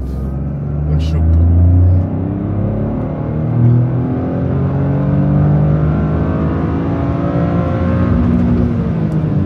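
A Toyota GR Corolla accelerates hard at full throttle on a closed road, its engine rising steadily in pitch as the revs climb, heard loud and close from inside the car, with a brief voice early on.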